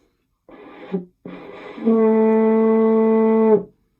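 A short rough French horn tone breaks off, then a steady, mellow note is held for about two seconds with the hand resting in the bell, close and fairly loud.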